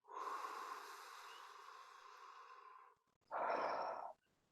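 A single long, deep breath drawn steadily for about three seconds, close and clear, followed after a short pause by a shorter, forceful exhale or second breath; no talking.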